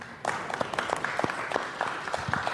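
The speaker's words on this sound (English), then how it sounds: "I like the scattered applause" Scattered applause from a small audience breaks out over a soft background din, sparse individual claps popping irregularly and fairly close for a couple of seconds at a talk on fighting anti-Semitism.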